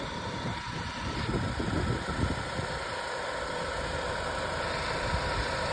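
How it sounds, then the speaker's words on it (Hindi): Under the hood of a Maruti Suzuki car, a faulty alternator adds a continuous whirring drone to the idling engine, with a rougher, rattling patch early on before settling into an even hum, heard up close without voices. "ये जितनी भी नॉइस क्रिएट हो रही है, ये सारी की सारी अल्टरनेटर के कारण हो रही है"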